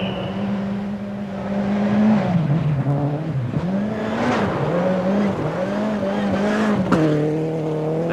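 A 1989 RAC Lombard Rally car is driven hard around the twisting Silverstone layout. The engine rises and falls as it revs, shifts and accelerates, and tyres squeal through the corners, heard fairly close and alone.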